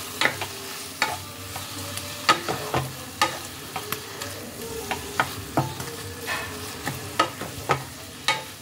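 Fried prawns being stirred into a radish curry in a pan, giving repeated sharp scraping strokes of a spoon at an irregular rhythm over a steady, soft sizzle close by, with no voices.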